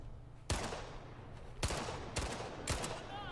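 Gunshots in Indiana Jones and the Great Circle, four loud, sharp shots spaced unevenly across a few seconds, each with a short ringing decay over quiet game ambience.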